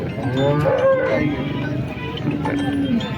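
Several cows moo in long, drawn-out lows at the Modnimb cattle market, over a busy, noisy background, with overlapping calls from nearby animals and a faint murmur of voices.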